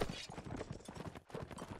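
Horse hooves gallop in the Mount & Blade Warband video game during a team match, a dense, quiet clatter of clip-clop beats running continuously over a busy battle mix.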